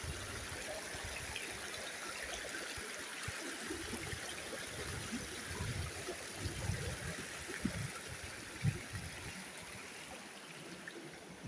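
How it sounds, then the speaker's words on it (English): A small river flows in a steady rushing babble with occasional gurgles and splashes, close by and continuous. "The river is not that big anymore like it used to."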